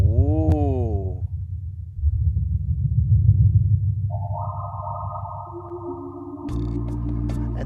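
Soft organ tone on an 8-foot flute voice, low sustained notes swelling into gentle rippling wave effects, then higher held chords entering and stacking near the end, played alone.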